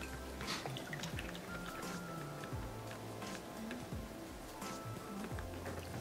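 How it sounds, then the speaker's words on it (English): Vegetable oil pours into a deep fryer as a faint, steady liquid trickle with soft dripping, heard close and quiet without any voices. "So I'll fill it up. And we're going to use vegetable oil."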